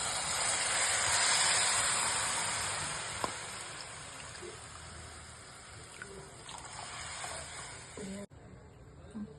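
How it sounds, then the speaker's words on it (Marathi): Water poured into a hot pan of lightly sautéed onions over low heat while making rava upma sets off a steady broadband hiss that is loudest early and gradually fades. "तर 3 वाटी पाणी घालूया"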